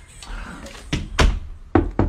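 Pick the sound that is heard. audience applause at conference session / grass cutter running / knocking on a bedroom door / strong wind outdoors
knocking on a bedroom door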